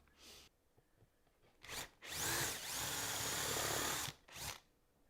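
A power drill whirs in short bursts, then grinds steadily into wood for a keepsake box for about two seconds before a final quick spin, close and clear.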